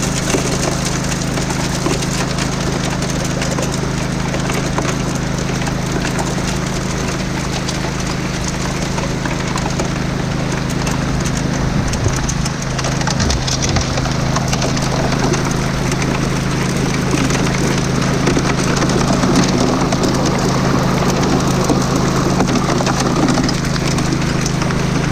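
A gold dredge engine runs steadily outdoors in Southern Oregon while gravel rattles through the machine, producing a loud, constant drone with a gritty clatter layered on top.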